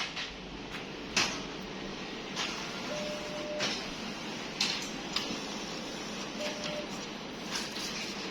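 A Fuji Xerox printer printing a page, quiet mechanical whirring and rolling with intermittent clicks, ticks and short feed noises at moderate distance, no talking.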